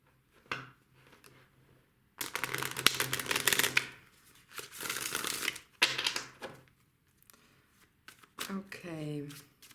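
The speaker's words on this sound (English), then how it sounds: "Let me shuffle it again." Bursts of papery tarot card riffling come in several rapid runs, close and fairly loud, with brief pauses and soft talking in between.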